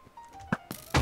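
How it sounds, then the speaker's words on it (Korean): A few dull, thudding booms from TNT blowing up in the Minecraft block game, spaced unevenly, the last and loudest one carrying on briefly. "TNT가 생각보다 늦게 터지네"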